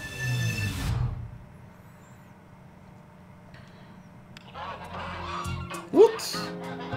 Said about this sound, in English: before it was dogs, now it's ducks